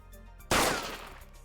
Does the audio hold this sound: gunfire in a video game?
yes